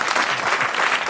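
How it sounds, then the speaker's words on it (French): A studio audience bursts into steady, dense applause at a French comedy show, loud and continuous throughout the short burst with no voices over it. "comme le public applaudit Jean-Phi à chaque fois"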